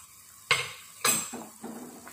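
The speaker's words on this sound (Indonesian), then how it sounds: "Kita aduk lagi." A metal spoon clanks against a pot while stirring beef sour soup made with tamarind, giving two sharp close knocks followed by softer scraping and clinks.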